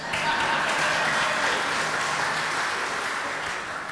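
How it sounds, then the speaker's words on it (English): A Main Street crowd applauds a barbershop quartet, a full, even wash of clapping from a sizable audience that stays steady and moderately loud for the whole stretch. "How about some applause for the other three guys?"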